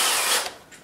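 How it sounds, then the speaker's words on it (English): A power drill fitted with a screwdriver bit whirs briefly and loudly as it backs out a hold tab screw on a vertical CNC machine, a short burst that trails off quickly. "to take it off, you can use a drill bit"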